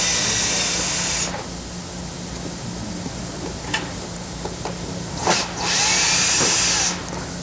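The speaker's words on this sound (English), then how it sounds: "The first step is removing the two Phillips head screws that hold the front lower seat cover" A power screwdriver removes Phillips head screws from the front lower seat cover of a chair, giving a steady whirring buzz over constant background hiss, with brief clicks and a couple of short motor bursts, close by.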